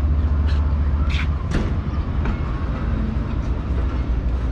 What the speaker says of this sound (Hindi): तो तकरीबन 2 मिनट रुकने के बाद ट्रेन जो है हमारी डिपार्ट कर रही है।